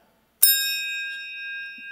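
A single bell struck once, ringing out with a sharp attack and a long, clear metallic tone that slowly fades while the pure overtones linger, heard alone with no talk in a quiet room.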